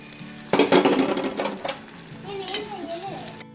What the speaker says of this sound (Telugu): ఈయనే ఈ ఎగ్స్ ఫ్రై ఫస్ట్ మా రమ్మక్కని చేయమన్నాడు